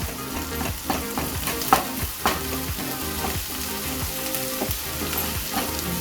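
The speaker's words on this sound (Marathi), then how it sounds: "तेलात थोडंसं छानसं परतून घ्यायचं। आपण गॅसची फ्लेम मोठीच ठेवली आहे।" Spring onions sauté in hot oil over a high gas flame, giving a steady sizzle. A spatula scrapes the pan in a regular, repeated stirring rhythm, close and clear, with no talking.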